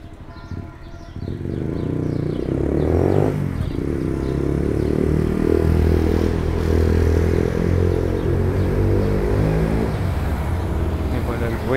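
A loud motorcycle engine roars past close by, rising and then fading, drowning out other sounds of the street.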